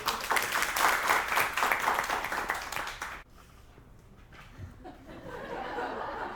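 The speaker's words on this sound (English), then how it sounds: "let's give her a round of applause, everybody" An audience applauds after a presentation, a few seconds of lively clapping with some laughter that stops abruptly, leaving quiet room murmur.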